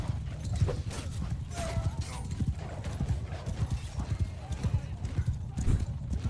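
Horses in the video game Mount and Blade 2 Bannerlord clop and gallop in a busy, uneven patter of hoofbeats, with a brief whinny partway through and battle noise around them, moderately loud and close.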